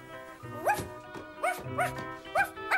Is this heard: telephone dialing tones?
no